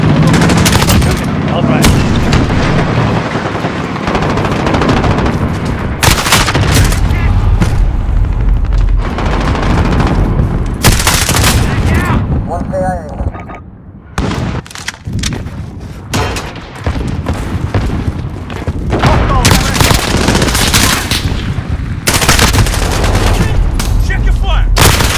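Loud, close machine-gun bursts from Call of Duty Modern Warfare 2019 with an M4A1 in play, rapid volleys broken by short gaps and booms. A voice speaks briefly between the bursts.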